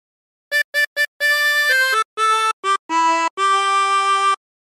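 A phrase on a 20-hole tremolo harmonica: three quick short notes followed by a run of longer, bright reedy tones with a warbling tremolo, played alone and close.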